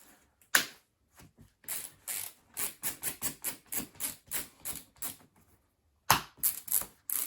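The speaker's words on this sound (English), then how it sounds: "Tighten up your BOAs however you like them." BOA lacing dials on a Burton Ruler snowboard boot being twisted tight, a rapid run of crisp ratcheting clicks in quick bursts with brief pauses, close and clear, no voices.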